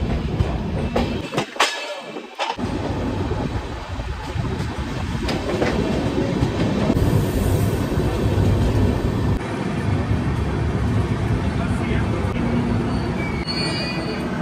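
A train rolling through Raniganj railway station, a steady loud rumble of wheels on rails with squealing and clattering throughout, no voices.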